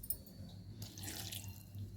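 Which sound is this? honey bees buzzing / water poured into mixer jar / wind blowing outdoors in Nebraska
water poured into mixer jar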